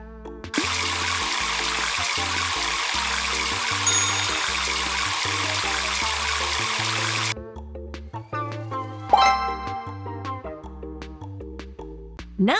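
Cartoon shower water hisses steadily in a pet care video game, a bright continuous spray that cuts off partway, followed by playful game sound effects and tones.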